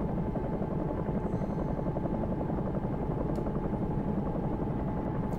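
A Bell 222 helicopter in the X-Plane 11 flight simulator, flying as a London air ambulance, gives a steady, close rotor thrum and turbine whine that holds constant throughout.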